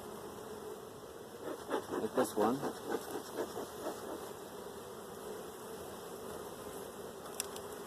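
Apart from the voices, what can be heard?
honeybees buzzing in an opened nuc hive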